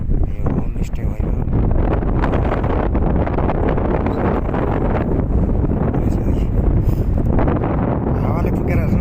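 Strong wind gusting steadily across a mountain ridge at Sandakphu on the India–Nepal border, a loud continuous roar battering the microphone for the whole stretch.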